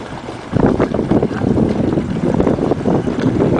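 A centreboardless sailing dinghy's jib flapping in the wind, a loud, continuous rough fluttering and buffeting that starts abruptly and keeps going, mixed with heavy wind noise on the microphone.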